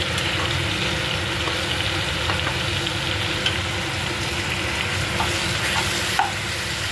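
Fish kalia curry with potatoes cooks in a pan, giving a steady close sizzle and frying hiss with light stirring scrapes and small pops throughout, and no voices.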